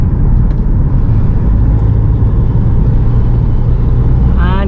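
Mahindra XUV500 W6 SUV with a 2200cc diesel engine while driving, a loud steady low rumble and road noise from inside the cabin, with someone talking over it.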